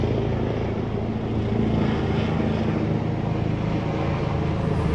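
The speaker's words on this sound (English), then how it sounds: "Sorry, this helicopter's been circling. It's come back." A helicopter circles overhead during a hot, dry bushfire period, a steady throbbing rotor drone that stays loud and constant throughout with no one talking.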